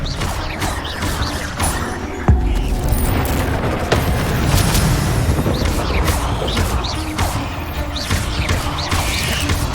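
Spells such as disarming, summoning and levitation charms crackle and whoosh in Hogwarts Legacy PC combat, a dense loud run of magical bursts, impacts and booms layered over game action.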